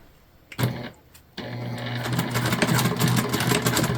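Sewing machine top-stitching the bottom seam of a bag lining at an eighth-inch stitch length, a brief start then a steady continuous whirring run close by.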